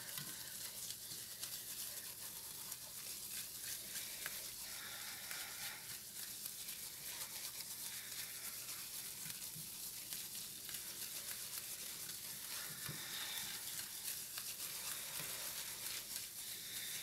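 A flour roux cooks in a pan for macaroni and cheese, giving a faint, continuous, even sizzle as it is stirred, with no pauses.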